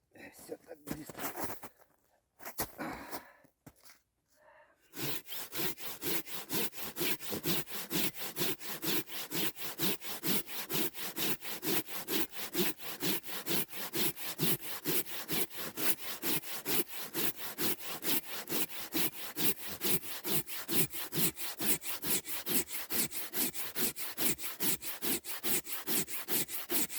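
Hand saw with set teeth cutting through a felled tree outdoors, a few scattered rasps at first, then a long run of fast, even back-and-forth strokes, loud and close.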